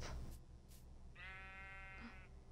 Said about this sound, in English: Is that a sheep?